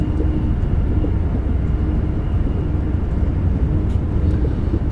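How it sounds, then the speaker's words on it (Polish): A Br 155 electric locomotive in Train Simulator Classic gathers speed, a steady, loud low rumble and drone of motors and rolling stock with no breaks throughout. "zacząć tutaj ustawiać kolejne pozycje, żeby rozpędzić lokomotywę"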